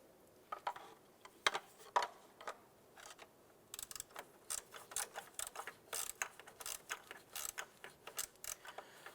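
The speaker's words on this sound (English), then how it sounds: "I'm going to go ahead and get the two far end bolts installed" Ratchet wrench driving intake manifold bolts on a 2011-2019 Ford Fiesta, heard as quick, close bursts of sharp clicking, sparse at first and then in steady repeated strokes, with no talk.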